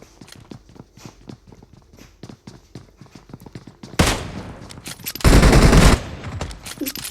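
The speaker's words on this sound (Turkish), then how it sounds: "adam pompalı attı vurduk da Beraçınar ölmedi" Gunfire from a PUBG Mobile match: a fast scatter of sharp, close shots, then a loud, dense burst of sustained fire near the end.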